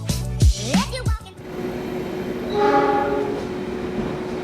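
Horn of the Brawijaya passenger train, preceded by loud voices and bumps, then a long steady horn tone rising out of rumbling rail noise.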